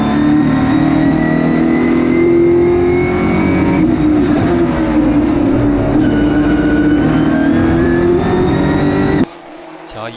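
Race cars roar past at the Superrace Round 4 night race at Inje, a loud sustained engine note with shifting pitch under excited commentary, cutting off abruptly near the end.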